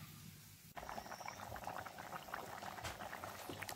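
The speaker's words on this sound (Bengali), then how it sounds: "কাঠের জালে ফুটছে মাংসটা।" Chicken curry with coriander leaves, with water just added, bubbles at a steady rolling boil in a pot over a wood fire, a dense continuous burble close by after a brief quiet start, with no talking.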